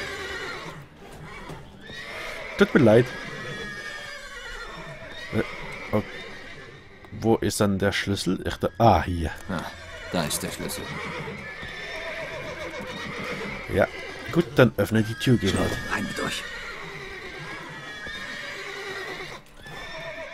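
Horses in The Witcher 3 whinny repeatedly and shuffle with clip-clopping hooves in several bursts, under someone talking through most of the scene.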